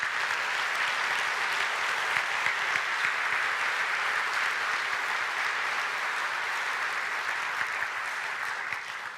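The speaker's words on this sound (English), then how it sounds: "if you would give them a round of applause" Audience applause at a synod gathering, a sustained, even wash of clapping from a sizable crowd at moderate distance, steady for several seconds before tapering slightly at the end.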